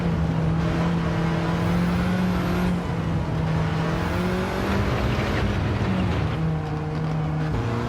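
A Volkswagen Golf race car engine in Gran Turismo 7 drones steadily under load, pitch rising and dipping through gear changes, loud and continuous with tyre and wind noise and no talk.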